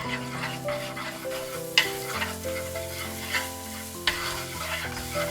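Egg mixture sizzling in a hot pan while a utensil stirs and scrapes it briskly, with a few sharper clanks, over soft background music.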